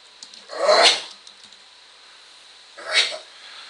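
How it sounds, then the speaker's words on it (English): A pet dog hacks and retches while coughing up a hairball, two harsh bursts a couple of seconds apart, fairly close and alone. "My dog has a hairball, so hopefully he's okay."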